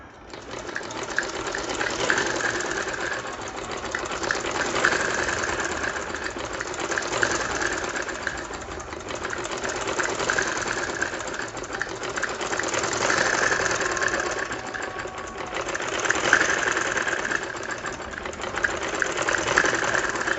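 A sewing machine stitches a ladies' trouser, a steady close mechanical whirring with a rapid rhythmic clatter that runs continuously for about twenty seconds, slightly rising and easing in intensity, with no talking.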